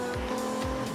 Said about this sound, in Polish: Wow, poślizg.